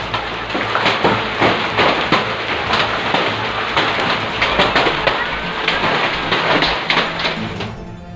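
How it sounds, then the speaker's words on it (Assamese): Heavy rain and hail in Nalbari, Assam, pelt down loudly and close, a dense hiss punctuated by sharp, irregular impacts throughout. "নিশাৰে পৰে সমগ্ৰ নলবাৰীতে ধাৰাষাৰ বৰষুণ, প্ৰচণ্ড শিলাবৃষ্টি।"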